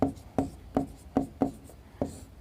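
Chalk or marker strokes on a board during a Class 9 NCERT maths lesson, six short scratchy strokes in an even, steady rhythm, close and clear, with no talking.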